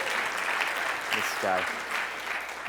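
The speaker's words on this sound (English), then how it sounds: "Give him a round of applause" An audience at a fitness summit applauds in a steady, moderate wash of clapping, with a brief spoken word over it.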